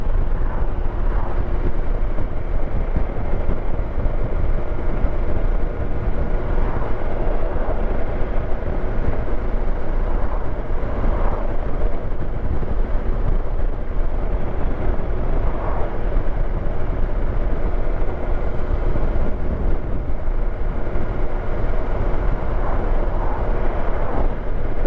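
A BMW S1000XR sport-touring motorcycle on the move, its engine a steady broadband roar mixed with wind rush that stays loud and constant throughout without pause.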